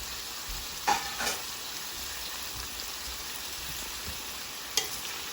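Broccoli and mixed chopsuey vegetables stir-frying in a pan, a constant hissing sizzle like steady rain, with a couple of brief clatters from stirring, close up and with no talk.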